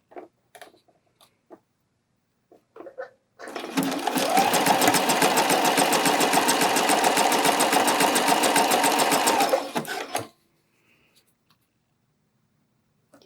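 A sewing machine stitches elastic onto a bralette in one sustained, rapid run of about six seconds, close and even, framed by a few scattered handling taps and near silence before and after.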